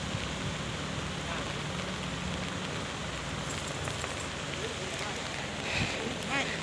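Rain falls steadily on the scene of an overturned six-wheel truck loaded with timber, a constant broad hiss with a few brief louder knocks near the end.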